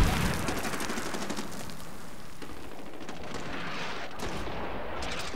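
Dense, continuous battle noise from a Medal of Honor Warfighter multiplayer Sector Control match, with grenade blasts and rapid gunfire blending into a steady, loud wash of explosions and shots throughout.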